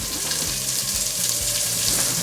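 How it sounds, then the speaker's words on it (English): Onions frying in a pot with bacon and olive oil for bean soup, a steady close sizzle and hiss that stays even throughout, with no talking. "So we got our bacon, our olive oil, now we got our onions, and this is gonna make a great sound."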